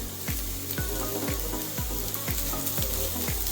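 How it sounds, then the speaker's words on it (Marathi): Grated coconut roasts with browned onions in a pan for a black peas usal, giving a steady close sizzle broken by regular scraping strokes of a spatula about every half second. "आपण त्याच्यात आता हे खोबरं टाकणार आहोत"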